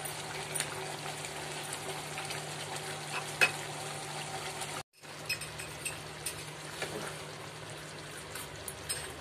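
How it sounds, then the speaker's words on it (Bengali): Mughlai chicken gravy bubbling and sizzling softly in a pan with occasional light stirring scrapes, broken by a brief near-silent gap partway through; no voices. "আবারও কিছুক্ষণ নেড়ে নিয়ে আমি ঢাকা দিয়ে রেখে দেব।"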